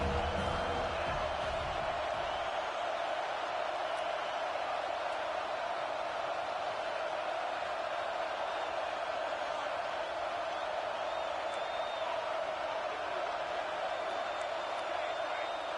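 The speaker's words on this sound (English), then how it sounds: "the crowd coming to life here trying to help this defense down in the red zone" Stadium crowd in an American football video game roars steadily with a broad, sustained wash of cheering as the defense holds in the red zone late in the game, continuous and loud throughout with no one talking.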